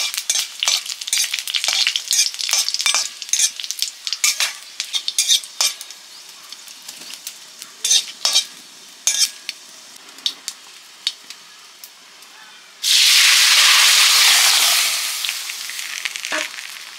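Panch phoron five-spice tempering with dried red chilli and bay leaf in hot oil for bitter gourd dal: scattered spoon taps and stirring clinks, then a sudden loud, sustained sizzle as the spices hit the oil, gradually easing.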